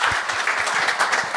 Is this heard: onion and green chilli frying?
no